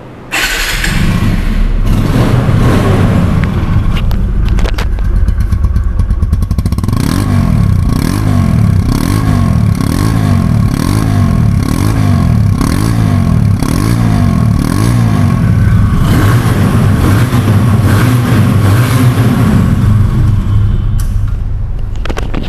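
A second-hand TVS Apache RTR 160cc motorcycle engine starts, then idles with a loud close rhythmic chugging and several throttle blips and revs, ending with a couple of sharper revs.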